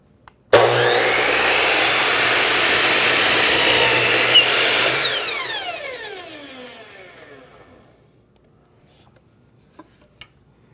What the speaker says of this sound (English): And all I'm going to do now is cut this piece of trim in half.